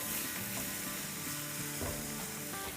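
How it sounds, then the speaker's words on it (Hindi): Vegetables for noodles sauté in a pan, giving a soft, continuous sizzle with faint stirring and scraping of utensils, fairly quiet and close, with no talking. "यहाँ वेजिटेबल्स हमारी सॉटे हो गई है"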